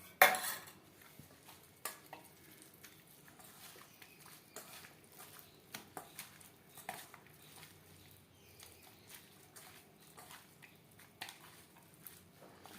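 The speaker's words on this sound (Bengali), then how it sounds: "মাছের সাথে মশলা বেশ ভালো করে মিক্সড করে দেব" A spoon working ginger and green chilli paste into fish pieces in a bowl, with soft irregular clinks and scrapes against the dish and quiet squelching, fairly faint, no talking.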